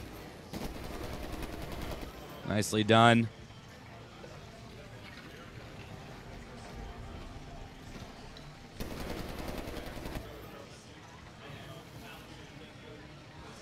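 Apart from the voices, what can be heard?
robot machine gun firing in video game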